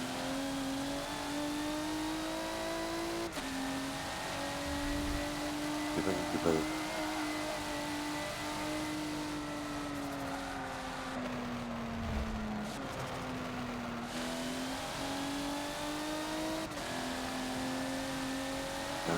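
A car engine in the Forza racing game revs at full throttle around the Maple Valley track. Its pitch climbs and drops with several gear shifts, steady and loud throughout, while someone briefly speaks over it.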